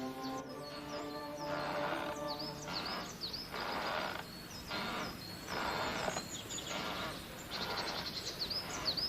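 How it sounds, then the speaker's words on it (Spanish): Blackbirds singing in the Galician countryside, repeated short phrases of whistled song and chirps in bursts, fairly near, over a faint insect buzz. "escuchando a los mirlos."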